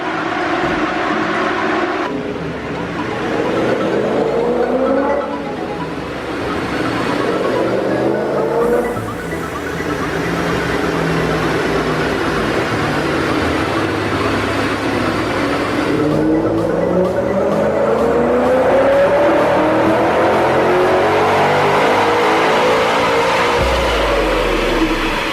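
A tuned turbocharged car engine with a boost gauge fitted to the blow-off valve revs hard on a dyno horsepower run. It climbs through rising pitch sweeps in several long pulls, loud and close, with no speech.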